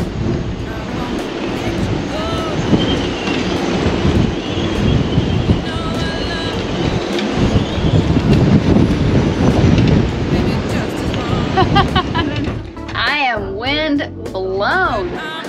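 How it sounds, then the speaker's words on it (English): Strong wind from a 56-knot storm on a boat roars and buffets the microphone continuously, loud and gusty, with voices coming through near the end. "Sorry it's so windy."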